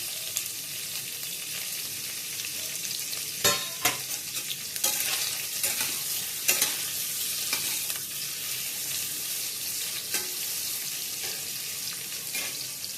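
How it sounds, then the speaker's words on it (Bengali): Cut paneer frying in white oil, a continuous close sizzle with scrape-and-stir knocks and crackles scattered through, loudest in the middle. "এবার পনিরটাকে ভেজে নেব।"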